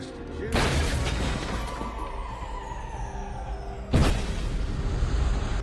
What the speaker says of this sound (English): A massive explosion shattered the stillness.